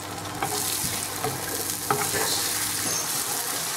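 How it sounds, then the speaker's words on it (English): Beaten egg hits a hot pan beside cooking tomatoes, giving a loud, continuous close sizzle with a few light scrapes and taps as it is stirred. "We are going to now add the beaten egg to the pan"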